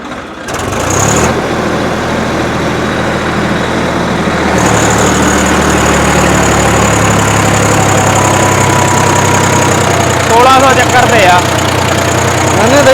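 Sawraj 744 XT tractor diesel engine running in gear, a steady, loud low drone with a continuous hum throughout and faint voices talking in the background near the end.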